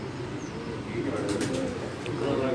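A brief burst of low pigeon cooing from a pet pigeon kept at a breeder's house in Islamabad, heard close over a voice talking.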